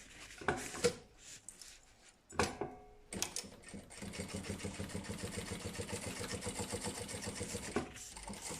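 A sewing machine stitching around a lunch bag. A few handling clunks and short bursts come first, then a steady rapid mechanical whir runs for several seconds before stopping, close by and with no voice.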